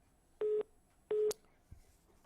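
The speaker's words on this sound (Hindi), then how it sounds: "चलिए, लगता है संपर्क उनसे टूट गया है," Telephone line tones as a call to a phone-in guest on a Haryana news broadcast drops: two short, steady electronic beeps about half a second apart, followed by a faint click and quiet line hiss.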